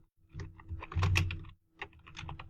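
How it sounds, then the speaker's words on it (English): A computer keyboard typed on in a short quick burst of keystrokes, then a brief pause and a few more taps, close and fairly quiet. "If I type here"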